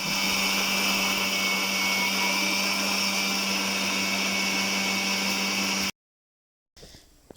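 A blender grinds soaked parboiled rice for steamed bhapa pitha, a loud steady whirring roar that runs unbroken for about six seconds, then cuts out abruptly before faint kitchen noise returns.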